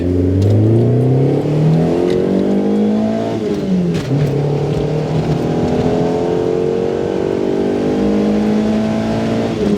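A 1986 Honda Civic Si F1 edition with its non-VTEC ZC engine accelerating hard through the gears, a loud, close engine note rising in pitch with each pull and briefly dropping at a shift midway, no talking over it.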